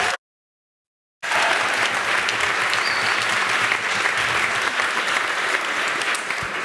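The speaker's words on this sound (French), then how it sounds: "faites-moi des énormes applaudissements juste pour leur donner un peu le truc" Loud, sustained applause from a large audience, steady clapping with crowd noise throughout after a short silent start.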